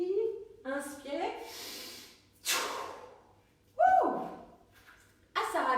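During a breathing exercise, a few distinct breaths are taken and released in turn, some sharp and audible like deep inhales and sighing exhales, with short vocal sounds between them.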